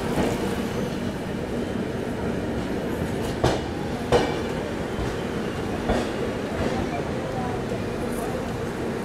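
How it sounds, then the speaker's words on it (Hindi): Seemanchal Express, Jogbani to Anand Vihar, passing through Kanpur Central station: a loud continuous rumble of rolling coaches with rhythmic wheel clatter and a few sharper clanks, near and steady throughout. "सामने से निकल गई जोगबनी आनंद विहार सीमांचल एक्सप्रेस।"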